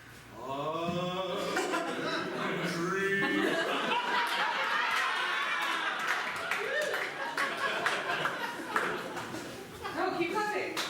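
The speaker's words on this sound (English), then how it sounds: "No, keep clapping." An audience at a Second City comedy show claps and chuckles during a sketch, scattered applause and laughter mixed under performers' voices.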